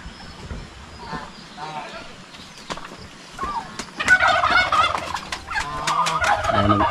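Turkeys on a farm break into loud bubbling gobbles in the second half, several birds calling together, while someone talks throughout and other farm noises sit underneath.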